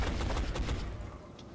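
Gunfire from the turn-based strategy game XCOM: Enemy Unknown: a dense, rolling burst of shots at a steady volume, fading slightly toward the end, with no voices.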